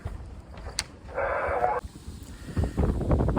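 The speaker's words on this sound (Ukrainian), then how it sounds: "дує дуже незручний для мене вітер" Wind gusts across a fishing spot on the shore, a steady rushing roar with a brief hiss and muffled buffeting and thumps nearby.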